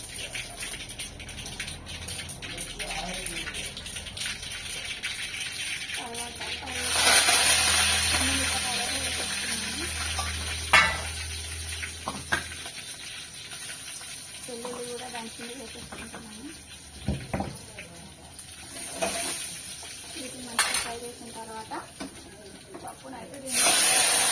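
Curry leaves and dried red chillies crackle and sizzle as they are tempered in hot oil in a pan, a sustained hiss with sharp pops close by, while a person talks over parts of it.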